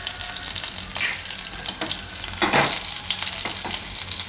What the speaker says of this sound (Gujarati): તો ઘી આપણું ગરમ થઈ ગયું છે, એમાં નાખીશું થોડુંક જીરું અને લીલા મરચાં.